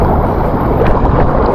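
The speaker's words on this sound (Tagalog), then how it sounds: "Lakas ng hangin mga katropa." Strong wind buffeting the microphone beside fast-flowing water at an outdoor channel, a steady, loud broadband roar filling the whole clip with no pauses.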